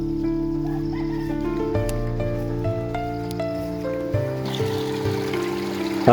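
Water streams steadily out of a farm irrigation pipe in the field, a continuous close trickle and gush with tonal hum from the pipe running beneath.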